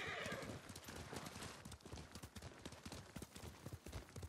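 Several horses in Ghost of Tsushima clatter off at a run, hooves clip-clopping in quick uneven beats close by, with a horse whinnying near the start.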